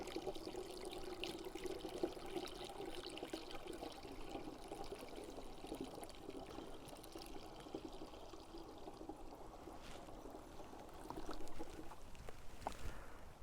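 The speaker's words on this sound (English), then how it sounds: "I just pour it into the tank" Gray water from camping pours steadily through a funnel into a tank with a soft continuous gush and trickle, fairly quiet, with a few small clunks toward the end.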